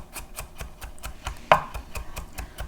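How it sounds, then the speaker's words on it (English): Knife chopping garlic on a cutting board, a fast steady run of crisp taps about five per second, close and even, with one louder knock midway and no talk. "So first I'm just going to use my knife to get it into some smaller pieces, and then I'm going to use 2 hands"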